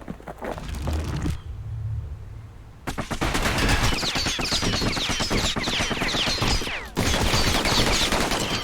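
Rapid gunfire from the action video game Bastion, dense bursts of shots firing continuously with short gaps, loud and close throughout.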